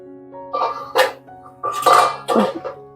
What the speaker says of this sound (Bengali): আমি ঢাকাটা তুলছি।